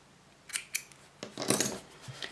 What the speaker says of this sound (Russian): Обрезаю ниточку.